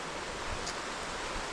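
River riffle where water pours over a rock shelf running across a flooded creek on a rainy day, a steady broadband rushing wash with no voices.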